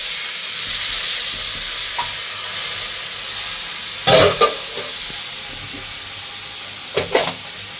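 A tempering for Kathiyawadi dhokli shaak is sautéed and stirred in a pan, giving a steady loud hiss with a couple of sharp utensil clinks and scrapes near the middle and the end.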